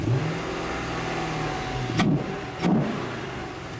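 Camaro SS with a 6.2L LS3 V8 running after being fired up, a steady idle rumble broken by two sharp blips of revving close by.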